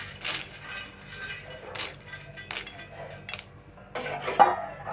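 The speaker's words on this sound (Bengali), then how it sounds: "পাস্তাগুলো একটু নেড়ে দিচ্ছি।" Two kinds of pasta are stirred in a pot with a utensil, giving irregular clinks, knocks and scrapes of metal against the pot that come in short bursts, close up and fairly quiet.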